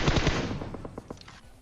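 Automatic gunfire in the video game PUBG, a rapid burst of shots that starts loud and close and then breaks into sparser, fainter cracks that tail off.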